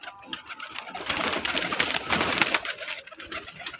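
Pigeons coo softly and steadily on a rooftop while being fed, a close, continuous murmur of several birds with light rustling.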